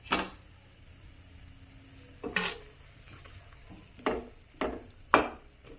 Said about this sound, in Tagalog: Lalagyan na natin siya ng toyo. Ayan. Konti lang syempre. Yan. So, haluin natin.